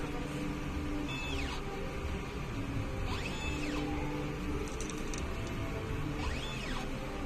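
An inkjet printer runs a head cleaning cycle. Quiet mechanical whirring continues throughout, and three rising-and-falling motor sweeps sound a few seconds apart as the print head carriage shuttles back and forth.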